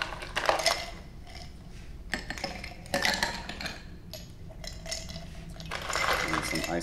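Ice cubes clatter and clink into a metal cocktail shaker in a few quick bursts, close and fairly loud, over a low background hum.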